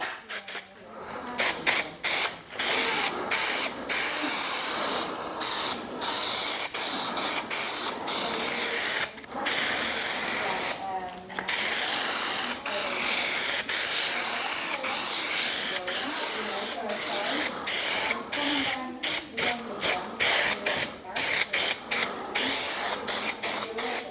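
Trim-fix adhesive sprayed onto a VW Caravelle/Multivan headlining board comes as a long run of loud, close aerosol hisses. The bursts are mostly short and quickly repeated, with a few longer sweeps, and there is no talking between them.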